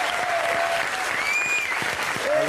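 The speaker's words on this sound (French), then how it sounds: "Applaudissements pour lui." An audience gives a guest a warm round of applause at a live event: dense, steady clapping fills the whole short stretch at full strength, with a few thin whistles rising above it and no speech.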